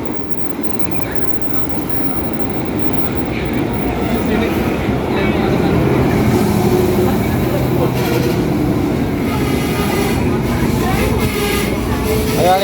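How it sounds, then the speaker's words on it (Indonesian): A KRL commuter train pulls into Nambo station with a loud, rumbling rolling noise that swells over several seconds, with station ambience and voices talking over it. "KRL tujuan Nambonya datang juga"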